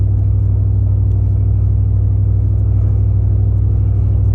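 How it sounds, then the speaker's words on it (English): A 2001 Ford E350 Super Duty van idles through a stout two-chamber Summit Racing muffler with 3-inch inlet and outlet, giving a loud, steady, deep rumble that pulses evenly and never changes pitch. "Very stout muffler, has a nice low rumble"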